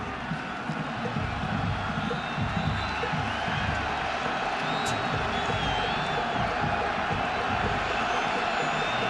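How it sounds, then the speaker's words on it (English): Large stadium crowd of over 100,000 at a college football game between Minnesota and Michigan, a dense distant roar of cheering and whoops that holds steady throughout, with a faint announcer voice underneath. "Crowd coming to its feet."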